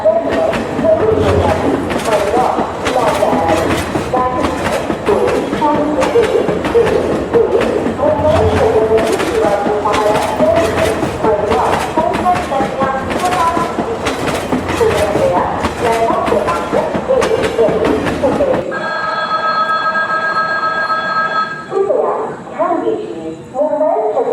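The Konkan Kanya Express departs toward Sangameshwar Road with a loud, continuous rumble and clatter of moving carriages. After about nineteen seconds it gives way to sustained tonal sounds.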